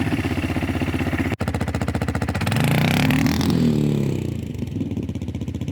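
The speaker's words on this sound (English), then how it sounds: "show you a bit of a launch, show you how much power it puts down to the ground" A Jianshe Puma 250 quad bike launches on dirt, its single-cylinder engine pulsing steadily and then revving hard and loud close by before dropping back to a rapid putter.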